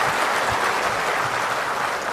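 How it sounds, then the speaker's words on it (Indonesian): A large conference hall audience claps in a dense, steady roar of applause that holds evenly for a couple of seconds with no talk. "Tepuk tangan untuk Sumatera."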